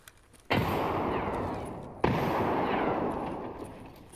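Gunfire in Escape From Tarkov: two loud, close shots about one and a half seconds apart, each leaving a long echoing tail.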